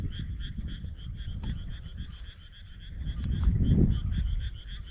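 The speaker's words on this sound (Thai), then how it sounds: "ก็เสียงกบเสียงเขียดห้องเต็มเลยนะครับ" Many frogs croak steadily in a night chorus after fresh rain in Japan, a rhythmic repeated calling with a low rumble underneath, fairly close and continuous.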